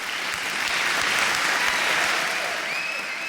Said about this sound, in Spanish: la gente de pie estuvo aplaudiendo hasta que se le cayeron las manos al suelo